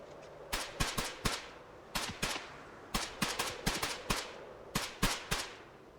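Gunfire in the video game Project Zomboid, sharp shots coming in quick uneven bursts of two to four across several seconds, fairly loud with quiet gaps between.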